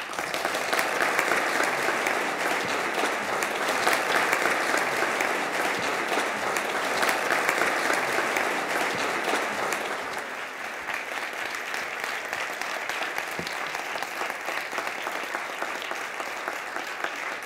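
A large audience applauds steadily to welcome keynote speaker Ta-Nehisi Coates at a university event, dense sustained clapping that eases a little partway through but carries on to the end.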